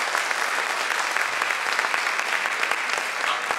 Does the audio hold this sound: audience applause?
yes